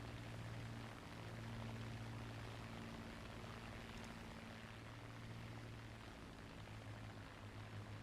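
A P-38 fighter's propeller engines in War Thunder give a low, steady droning hum, faint and continuous throughout, with no talk over it.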